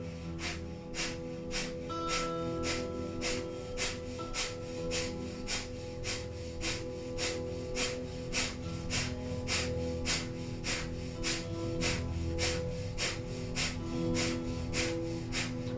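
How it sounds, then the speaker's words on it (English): Breath of fire in a Kundalini yoga set comes as rapid, evenly paced sharp nasal exhalations, about two per second, fairly close and sustained over soft background music. "Beginning breath of fire."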